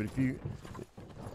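Horse hooves clip-clop in Myth of Empires as a horse pulling a cart climbs a hill, a few soft, uneven steps under someone talking over a brief stretch.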